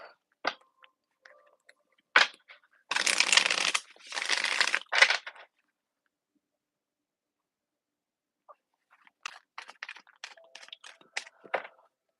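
Seed and Sickle divination deck cards riffled close by in two short dense bursts, followed by scattered soft taps and card handling, with long quiet stretches between.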